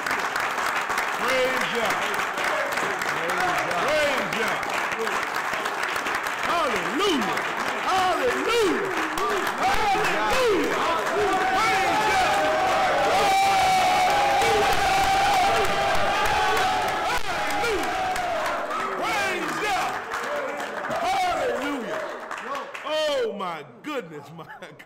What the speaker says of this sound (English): let's get the Most High hand clap